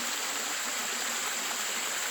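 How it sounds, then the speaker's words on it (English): A steady broadband rush of water from a waterfall outdoors, constant and even with no breaks, a continuous hiss across the whole clip. "I'm out at a waterfall, you can see this, and probably hear it in the background."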